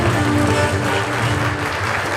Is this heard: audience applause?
yes